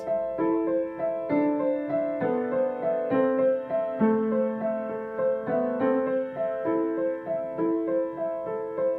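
Piano in a pop-rock improvisation, the right hand repeating broken triads in a gentle rocking pattern over slow-moving left-hand melody notes, soft and even throughout with no talking.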